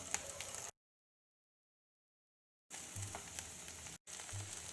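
Boneless fish kebab cutlets shallow fry in a little oil over low heat, giving a crackling sizzle close by that cuts out for a couple of seconds and then returns.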